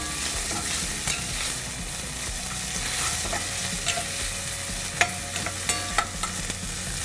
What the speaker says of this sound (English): we're going to cook the onion for about a couple of minutes till it becomes little